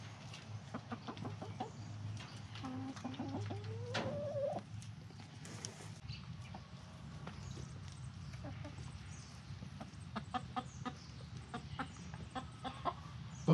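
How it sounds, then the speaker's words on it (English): A chicken in a forest gives a scattering of soft, short clucks and one rising call, fairly faint against a low, steady background hum. "Maybe the chicken misses its friends."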